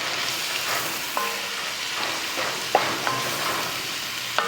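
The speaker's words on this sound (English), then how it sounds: "now we're going to start to let our onions sweat down and our bacon" Bacon and onions fry together in a pan for a smoked chateaubriand dish, giving a steady, close sizzle with a few sharp stirring clicks and scrapes and no talk.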